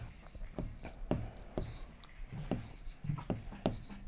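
A pen or marker writes on a board or paper, giving a series of quick scratchy strokes and taps in an irregular rhythm, close and fairly quiet.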